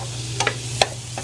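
Onion and garlic stirred in a hot frying pan with vegetables, a soft continuous sizzle broken by a few sharp utensil scrapes and taps against the pan, close and clear, no talking.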